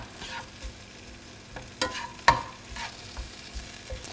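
Mushrooms frying in a pan with coconut and garlic, a steady low sizzle broken by a few scraping stirs and utensil taps, close and alone.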